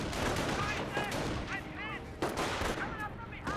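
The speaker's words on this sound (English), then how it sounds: "Sniper does get a good shot there." A sniper rifle shot rings out during a Company of Heroes 1 battle between Wehrmacht and US forces, a sharp crack among steady rumbling gunfire and scattered bursts at mid distance.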